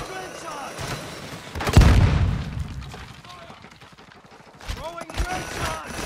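A grenade charge detonates in a shooter video game, a heavy low boom around the middle that rolls off slowly, with other game sounds and brief tones around it and someone talking over parts of it.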